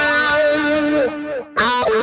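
An electric guitar runs through a HeadRush pedalboard with overdrive, phaser and delay, giving a sustained, distorted, swirling chord that briefly drops away before a fresh strum rings out.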